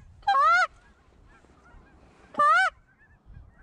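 Geese honk while flying in over decoys on big open water during a hunt, two separate loud bursts of several honks each, about two seconds apart, with a faint low rumble between them.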